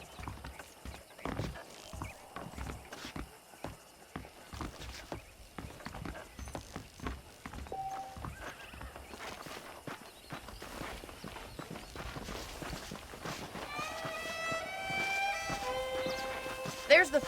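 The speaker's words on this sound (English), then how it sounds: "The horses are saddled up over here." Horse hooves clip-clop at a walking pace in the Red Dead Redemption video game, a steady close rhythm of hoofbeats under a man's speech, with music rising toward the end.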